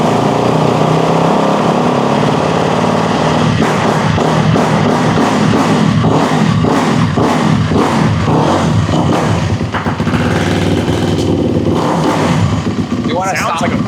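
A brand-new Kawasaki KX250 dirt bike engine fires up and is blipped with short throttle revs, a rapid rhythmic burst of loud, close revving over a steady idle, with people talking nearby.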